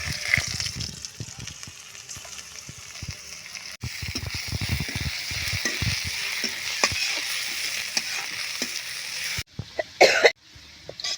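Lentils frying in a pan for a village-style cauliflower and egg curry give a steady, dense sizzle, with soft clicks of stirring throughout and a few sharper scraping bursts near the end.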